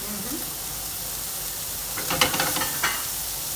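Bacon sizzling in a hot pan while cooking Breaded Chicken Supreme: a steady, close hiss of frying fat, with a few brief stirring scrapes toward the end.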